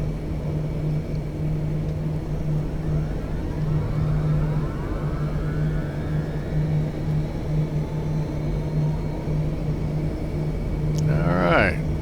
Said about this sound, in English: First 3 engines are looking stable enough to start the last one.